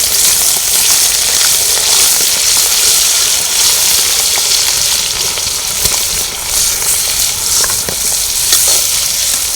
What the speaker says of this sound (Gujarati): આજે આપણે આદુ મરચાં અને લીલું લસણ એ આપણે એની પેસ્ટ તૈયાર કરી છે એને ફ્રાય કરીશું